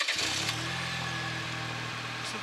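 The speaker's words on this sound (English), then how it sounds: "we also have the MagnaFlow Overland Series exhaust, and it sounds really good" A 2023 Chevy Colorado's 4-cylinder engine idles through a MagnaFlow Overland Series aftermarket exhaust with a deep, steady rumble, close and even throughout.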